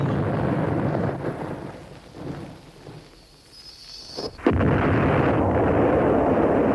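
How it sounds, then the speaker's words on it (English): Loud cartoon torpedo launch and submarine explosion: a heavy rumbling blast that fades to near quiet, then a sudden second booming explosion that roars on steadily. "Well, I'm glad those 2 fake submarines blew each other up."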